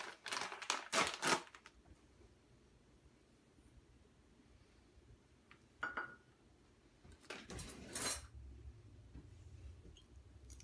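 Spoon stirring almond flour into muffin batter in a bowl, a few quick clattering scrapes at the start and more scraping bursts later, quiet gaps between, no voices.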